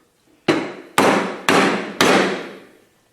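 A tool handle is driven onto a Little Beaver tool with four sharp, ringing hammer blows, each about half a second apart and close by, the last one ringing out longest.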